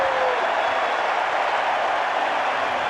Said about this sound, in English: Finally, the Irish have something to cheer about.